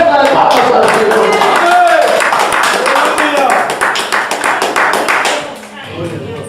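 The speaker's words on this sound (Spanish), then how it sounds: "Den una ofrenda de palmas al Señor." A church congregation claps hands together in a dense, steady burst of many overlapping claps, close and loud, with voices mixed in; the clapping thins out and softens near the end.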